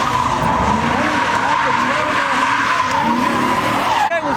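A Tesla doing donuts at a crowded car meet, tires skidding and squealing in one loud continuous screech that holds steady for about four seconds before cutting off abruptly.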